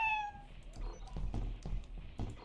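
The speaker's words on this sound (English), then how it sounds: "I found a cat already." A video game cat gives a short, clear meow near the start, followed by soft muffled thuds and in-game movement noise.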